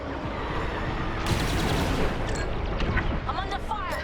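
Starfighter weapons in Star Wars Squadrons open up in rapid, crackling bursts over a steady roar of engine and battle noise. The shots begin about a third of the way in and keep coming in close, loud volleys.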